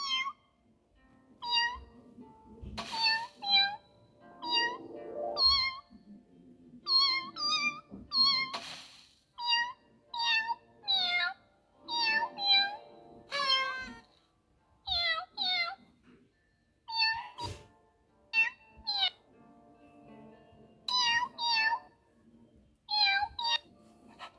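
Cats meow repeatedly in the video game Pet World, a long series of short, clear meows in irregular bursts, some overlapping, with occasional soft taps and faint talk between them.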